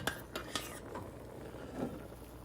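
Boiled fenugreek seeds and kalonji water are strained into a kitchen vessel, with a few light metallic clinks of utensils early on, faint and close.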